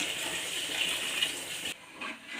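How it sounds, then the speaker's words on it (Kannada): Water pours steadily into fried masala in a pan while fish curry is cooked, a soft continuous gush that stops abruptly near the end. "ನಾನು ಈ ಟೈಮಲ್ಲಿ ನೀರು ಹಾಕ್ತೀನಿ"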